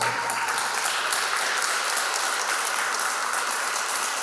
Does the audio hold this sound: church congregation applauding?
yes